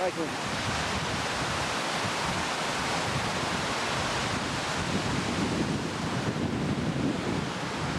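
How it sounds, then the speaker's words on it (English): Water roars steadily down a mountain stream in New Zealand's South Island, a loud, continuous rushing wash close by that holds unbroken throughout. "water roars down that."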